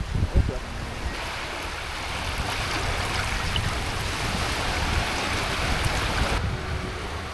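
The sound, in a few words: waves on a beach in Kuantan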